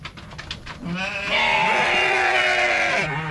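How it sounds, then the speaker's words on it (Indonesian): Goats at a goat farm, hungry and not yet fed, letting out a long, loud, wavering bleat up close after a few fainter cries, with no talking. "kambingnya belum dikasih makan. Berisik teman-teman."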